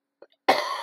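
A single sharp human cough, close and loud, preceded by a faint breath.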